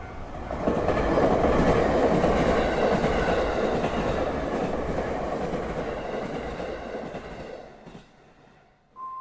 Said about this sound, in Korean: 지하철이 서서히 속도를 줄이자